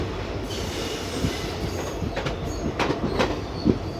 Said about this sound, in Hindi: अपनी गाड़ी अब पहुंच रही है कोटकपुरा जंक्शन पे।